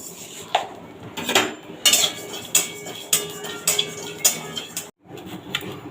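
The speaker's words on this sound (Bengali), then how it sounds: "সবার প্রথমে কড়াইতে কিছুটা জিরে শুকনো খোলা আমি ভেজে নেব" Cumin seeds are dry roasted in a wok, a spatula scraping and clinking against the metal in a regular rhythm of sharp strokes about every half second, close and clear with no speech.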